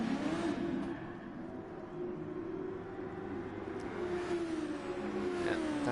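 GT racing cars in a sim race at the Red Bull Ring, a McLaren and a Lamborghini battling under braking, with a steady engine drone that dips and recovers at moderate, fairly distant level.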